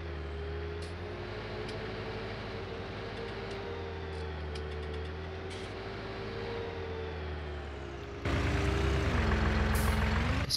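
A farm tractor used for feeding cows, with a front end loader attached, idles with a steady low rumble that grows noticeably louder and rougher for the last couple of seconds.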